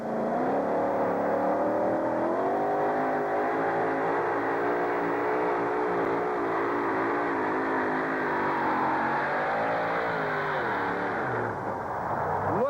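A two-wheel drive pulling truck, the Irish Challenger, roars continuously at a stadium truck pull in Anaheim, its engine held at high revs with wavering pitch for the whole stretch.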